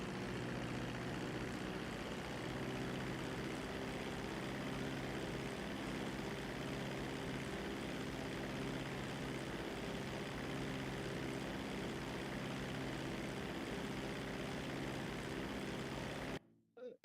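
An airplane engine runs at full throttle down a runway in GTA 5, a loud, steady propeller drone with a deep low hum that holds constant for most of the clip, then cuts out abruptly near the end.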